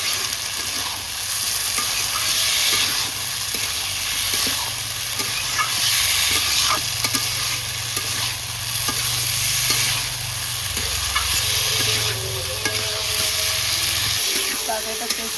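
Potatoes and softened tomato stir-fried in a pan for a rohu fish curry, a loud continuous sizzle with steady scraping stirs and occasional clinks, close up with no talk.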